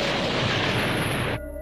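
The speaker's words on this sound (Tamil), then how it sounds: "இன்னும் சில கிரகங்கள் வெடிச்சிருது" Planets exploding in the sci-fi series Lucky Man: a loud, dense, roaring blast that fills the sound for over a second, then cuts off abruptly to a quieter low hum.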